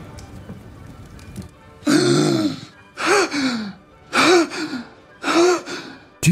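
A man gasps sharply for breath as he comes back to life, four loud, ragged inhalations in a row with short pauses between, close and alone after a near-silent start.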